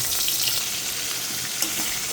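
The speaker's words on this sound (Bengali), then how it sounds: "প্রথমে আমি মাংসটা একটু ভেজে নিব" Chicken pieces frying in hot oil, a dense, loud, continuous sizzle heard up close with no voices.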